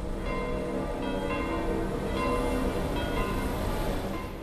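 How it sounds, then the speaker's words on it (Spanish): Church bells peal over Rome in a sustained, overlapping ring of distant tolling at moderate volume, with no voices. "campanas."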